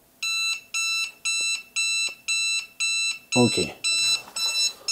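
A Xiaomi ZigBee 3.0 gateway sounds its alarm, a loud, evenly repeating electronic beep roughly twice per second, with a person talking briefly over the last beeps.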